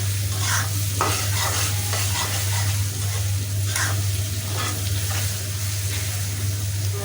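Ginger and garlic fry and sizzle in a pan for a bitter gourd and fish roe dish, a continuous loud close hiss broken by scraping stirs, over a steady low hum and without talk.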